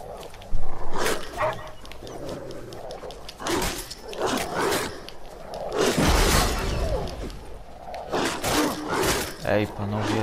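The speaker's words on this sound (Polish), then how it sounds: "Dzikie psy z pierwszego levela mnie orają." Wild dogs attack in The Witcher 3 game, with snarling, barking bursts and impact-like crashes spread across the clip at fairly loud level, mixed with game effects and some voice.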